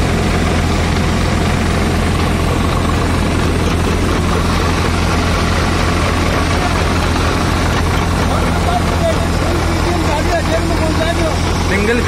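A new Swaraj 744 XT tractor engine drives a 5 Star thresher through a normal PTO, a loud, steady, heavy rumbling drone with constant machine clatter throughout.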